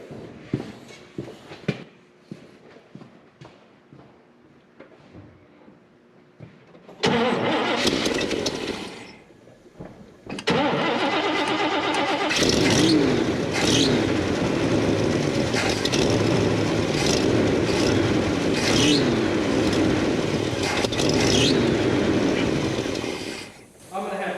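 A Chevrolet El Camino engine cranks and catches, stumbles and dies, then restarts and settles into a loud, steady close-up run, after some quiet handling noises at the start and with a voice speaking over it.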